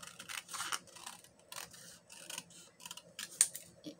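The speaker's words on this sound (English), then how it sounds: "I'm going to cut these out now." Scissors snip out small paper pieces for a handmade junk journal, a series of close, crisp cuts in short uneven bursts with quiet pauses between, alone without talk.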